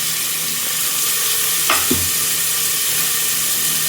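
Onion fries in hot oil for a Mangalore-style chicken curry, giving a loud, steady sizzle with a brief stir or clatter midway.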